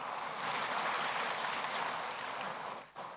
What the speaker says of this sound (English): Please clap for the President.